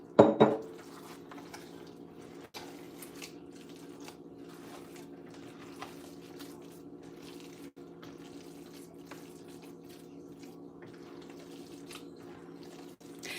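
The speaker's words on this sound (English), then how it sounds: "I think we should be good to add in a little bit more broth" Poultry broth poured into holiday cornbread dressing, a steady soft liquid trickle that runs continuously and fairly quietly after a brief louder splash at the start.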